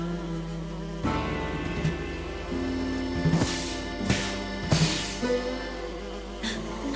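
Bees buzz close by in a continuous drone, with several sharp louder bursts of buzzing as insects pass near.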